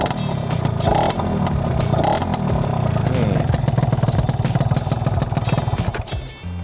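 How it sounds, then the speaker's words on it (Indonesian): Yamaha Alfa II R two-stroke motorcycle engine idling and revving with a crisp, rattly note, loud and close, pulsing steadily before fading at the end. "Merdu ya kalau 2 tak tuh suaranya"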